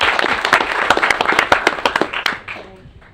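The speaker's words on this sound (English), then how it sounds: "this is where y'all can clap with these wonderful people" Audience at a city council meeting claps in a brief burst of distinct, fairly close hand claps that thin out and fade toward the end, with faint voices underneath.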